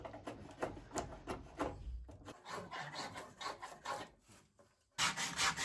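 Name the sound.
sanding a spruce spar by hand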